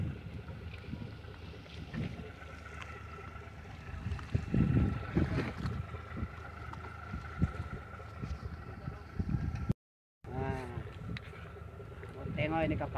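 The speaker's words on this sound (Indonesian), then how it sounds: "Nah, tengok ini kapal." Boat trawling for shrimp near the shore at Taburan, with a steady engine and water wash mixed with wind buffeting the microphone. People talk over it, and there is a brief dropout near the end.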